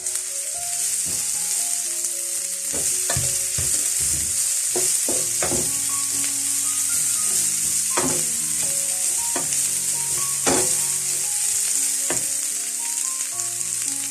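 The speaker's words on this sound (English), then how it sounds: "In here, I'm going to put in our veggies." Vegetables go into a hot pan and fry with a steady loud sizzle, broken by repeated scraping and clinking stir strokes from a utensil against the pan, with no talking.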